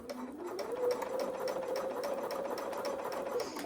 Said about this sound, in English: I'm just going to sew along, keeping that diagonal point on this thick line